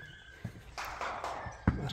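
A chocolate-brown foal moves close by, giving a few soft hoof thuds and a brief snort-like burst over a quiet outdoor background.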